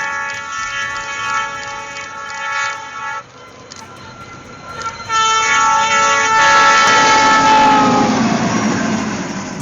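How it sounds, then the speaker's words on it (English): A snow-clearing train on an Illinois railway sounds its horn in long, loud chords, first a held blast, then a brief pause before a second, stronger blast over rumbling machinery. "The footage in Illinois shows how snow-clearing trains still play a critical role in keeping railway lines operational during harsh winter conditions."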